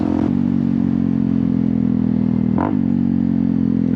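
A Honda CRF250L dual-sport motorcycle engine drones loudly and steadily at high revs, with a brief rev swell near the end and no talk.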